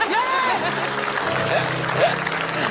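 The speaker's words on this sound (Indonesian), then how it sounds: "Tepuk tangan dong." Studio audience applause on an Indonesian comedy talk show, dense and continuous, with voices and whoops riding over the clapping throughout.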